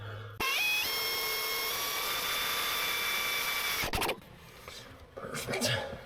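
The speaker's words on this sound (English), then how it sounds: "I'll drill this right here." A power drill bores into a cracked steel truck frame on a 1980 Peterbilt 359, a loud steady whine that holds for several seconds, then cuts off, followed by faint handling noise.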